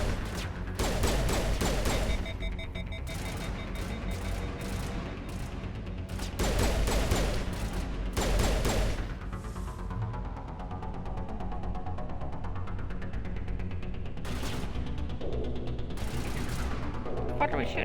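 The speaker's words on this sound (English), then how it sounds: "What are we shooting at?" Rapid bursts of gunfire in the video game Mass Effect, sustained volleys and fusillades that come and go over a steady game soundscape with music-like tones.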